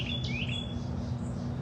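A wild bird outdoors lets out a few sharp, high chirps and a short whistled tweet over a low, steady background hum, heard alone and fairly close.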